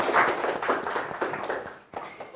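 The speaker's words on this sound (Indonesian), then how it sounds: "Oke, berikan aplaus ya." Applause from a classroom audience for a group's finished presentation, a steady wash of many hands clapping for a couple of seconds, fairly close and dipping briefly near the end.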